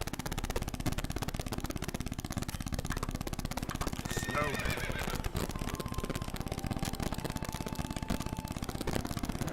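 A horse whinnies, spooked by ghosts in The Witcher 3, over a busy game soundtrack of clip-clopping hooves and background music, with a voice talking at times.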